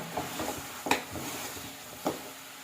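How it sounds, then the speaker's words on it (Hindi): Beef paya frying in a pot, with utensil scrapes and stirring clatter over a low sizzle, two sharp metallic knocks standing out, no voices. "अब इसको 5 से 6 मिनट मज़ीद फ्राई करेंगे"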